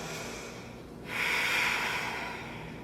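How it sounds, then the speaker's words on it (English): A deep yoga breath is heard close and quiet, a soft breath followed by a longer airy exhale with no talking. "One more deep inhale and exhale."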